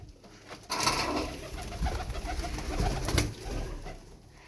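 Tumbler pigeons cooing close by, soft throaty rolling coos repeating over a low hum of the surroundings.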